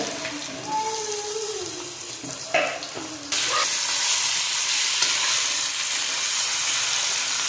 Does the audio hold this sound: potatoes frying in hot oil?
yes